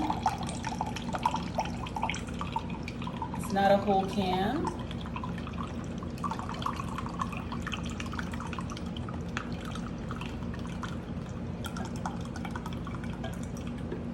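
Beef broth, one cup of it, pours into a crockpot while cooking meatball stroganoff, a brief splashing burst close by, with a person talking over it and kitchen noise around.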